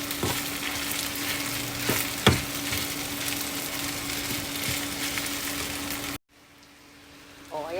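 Kimchi fried rice sizzles loudly in a frying pan while a utensil scrapes and taps through it in irregular strokes. The sound cuts out abruptly near the end, leaving a quiet moment before a brief return.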